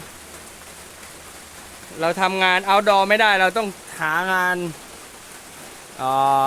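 Steady rain falls as a soft, even hiss throughout, while someone speaks Thai in bursts over it.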